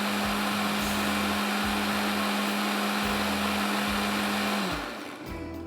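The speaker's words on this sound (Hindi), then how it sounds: "अच्छी तरह से सारी चीज़ों को आपने पीस लेना है।" A kitchen blender grinds almonds and pistachios with a loud, steady whir and regular rhythmic thumps. The motor then winds down and stops near the end.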